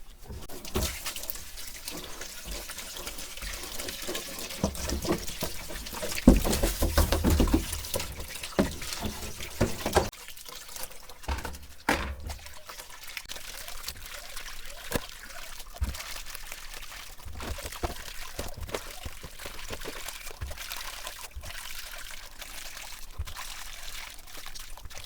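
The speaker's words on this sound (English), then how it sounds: "Wash it out with ordinary water." Ordinary water poured over African snails to wash them during processing for packaging, a steady splashing pour with trickles and drips that runs close and fairly loud throughout, with no talking.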